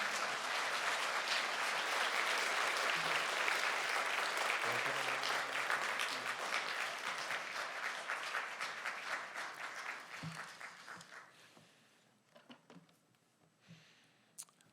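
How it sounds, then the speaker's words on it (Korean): A church congregation in Seoul gives loud, sustained applause welcoming a guest pastor, dense clapping that swells then gradually thins and fades over several seconds into near quiet with a few scattered claps. "우리 사모하는 만큼 큰 박수로 환영을 모시도록 하겠습니다"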